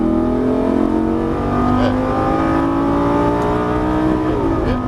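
A sports car accelerates hard along a straight on the Las Vegas Speedway track, its engine loud and close from inside the cabin with steadily rising revs, a brief shift dip partway through, and continuous tire and wind roar.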